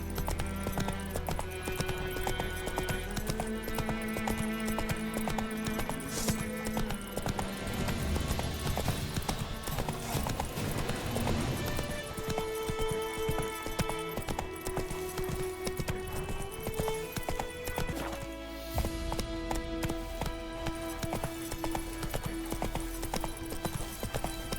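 Roach the horse's hooves clip-clop in a steady galloping rhythm through The Witcher 3, loud and close over a sustained musical score, with a brief whinny and no talking.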